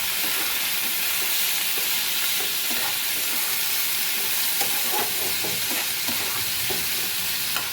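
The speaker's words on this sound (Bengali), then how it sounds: "নুনটাও এটাকে বেশ ভালো করে ভেজে নিয়ে প্রেসারে বসাবো খিচুড়িটা" Steady, loud sizzling of khichuri rice and lentils frying with salt in a pan before pressure cooking, with a continuous hiss and occasional stirring scrapes, no voices.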